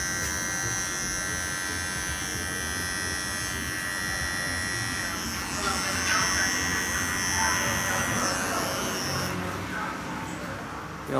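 A Wahl 5-in-1 hair clipper with a freshly sharpened cutter blade runs close by with a loud, steady electric buzz, its tone roughening midway as the blade cuts hair.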